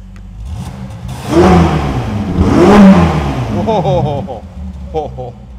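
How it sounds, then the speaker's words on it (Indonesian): Ferrari GTC4Lusso T V8 engine revving twice in loud, rising blips, then settling as a voice talks over the tail of the idle. "Tetap khas Ferrari suaranya untuk V8 ini."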